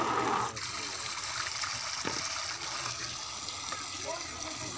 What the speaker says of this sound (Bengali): এখন আমি মাছগুলো সুন্দর করে ধুয়ে পরিষ্কার করে নিচ্ছি।